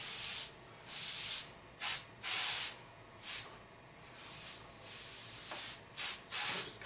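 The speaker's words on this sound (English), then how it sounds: "I'll take my airbrush, test my flow, and let's bring that down a little bit." An airbrush sprays paint in short on-and-off hissing bursts as the flow is tested for a marble effect, close and fairly soft, with no voices.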